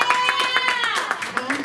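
An audience at a live comedy show in South Jersey breaks into brief, close applause, with scattered claps running under someone speaking loudly.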